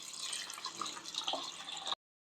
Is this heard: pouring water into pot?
yes